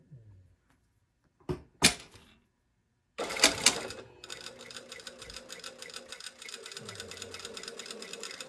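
Sewing machine stitching a seam on a linen dress, the under collar joined to the bottom of the shirt: a few sharp handling clicks and knocks, then a steady fast mechanical whirring of stitching that runs to the end, close and fairly quiet.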